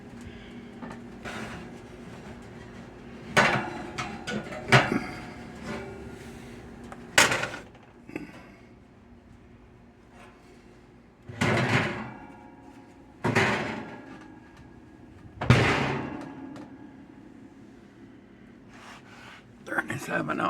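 Banana nut bread pan handled at a home oven: several loud bangs and clatters of the oven door and rack, separated by quieter gaps with faint talk in the background.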